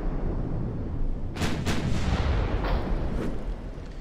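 Battleship and battlecruiser guns fire semi-armor-piercing shells in the naval game Ultimate Admiral Dreadnoughts. Two close booming blasts are followed by fainter, more distant reports over a steady low rumble of battle noise, with no talking.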